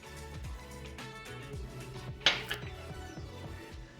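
A teaspoon scoops gulkand into a glass for a gulkand shake, making one sharp clink of metal on glass over a soft background of faint musical tones, followed by a smaller tap.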